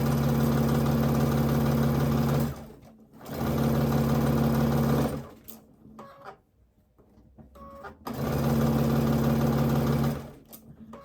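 A sewing machine stitches a quilt in three fast, even bursts of whirring with a steady hum, each pausing briefly between rows, close and loud with no talk.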